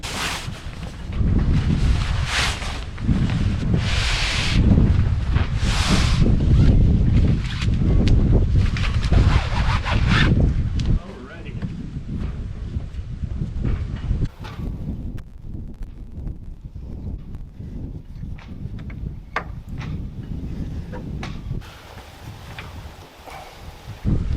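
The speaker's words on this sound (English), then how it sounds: "the wind is starting to pick up a little bit" Wind gusting across a sailboat deck, a loud rushing, buffeting roar that dominates the first half and then eases into softer, rustling gusts with occasional knocks.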